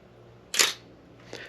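An old film camera shutter fires at 1/125 second, giving a crisp close snap and then a fainter second click under a second later as the two shutter curtains move, with no talking.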